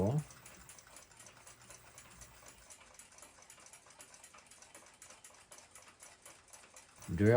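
A small drill boring a pilot hole for a number 3 screw in clock work, steady rapid ticking chatter of the bit running close and continuous for several seconds, with a louder thump at the start and end.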